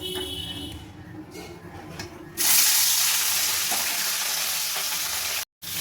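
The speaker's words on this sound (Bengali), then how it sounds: "এখানে আমি কড়াইয়ের মধ্যে 3 পিস মাছ দিয়ে দিয়েছি।" Rohu fish pieces, rubbed with salt and turmeric, drop into hot oil in a wok and fry with a loud, steady sizzle that starts abruptly midway and continues. Before that there is only faint kitchen noise.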